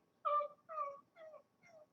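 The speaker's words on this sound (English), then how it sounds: "interrupted by the yelp of a dog, followed by a faint, distant, and constant whining" A dog lets out a loud yelp, followed by three fainter whining cries that fall away as if receding into the distance, with no voices present.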